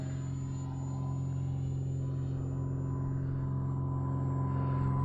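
A 4S Dolphin RC jet trainer flies past at full throttle, its steady, loud electric ducted-fan whine and rumble holding constant for several seconds with no talk.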